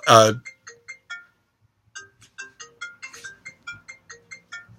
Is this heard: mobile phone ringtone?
yes